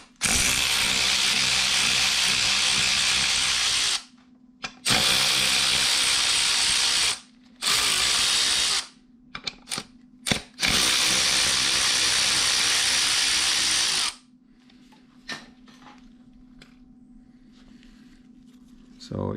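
A power socket tool drives out 10 mm bolts from a 1984 Honda Goldwing water pump in long loud whirring bursts broken by short gaps, then quieter handling noises, with someone talking at times.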